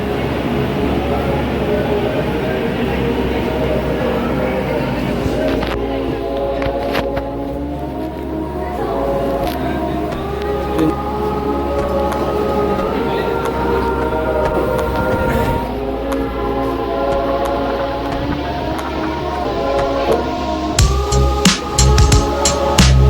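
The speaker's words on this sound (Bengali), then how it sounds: "আমাদের প্ল্যাটফর্ম থেকে ট্রেন ছেড়ে দিল" A passenger train pulls away from a station platform, heard from inside a carriage as a steady low rumble with clanks and rattles, faint voices in the background, and a louder clatter toward the end.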